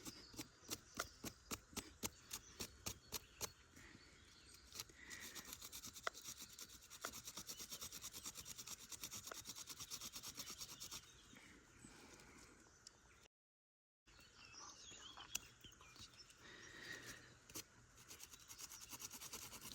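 Wood is sanded by hand with a flint stone: quick rhythmic rasping strokes at first, then a steadier continuous scraping, close and fairly quiet, with one short silent gap.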